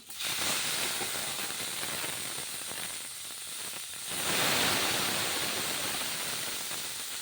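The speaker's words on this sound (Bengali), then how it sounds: "আলুটা ভাজা হয়ে গেছে এবার কচুটা দিয়ে দেবো এর মধ্যে দিয়ে একটু নেড়ে নেবো" Pieces of taro tipped into a pan of fried potatoes hiss and sizzle steadily while being stirred, the frying noise swelling louder about midway and continuing close and dense.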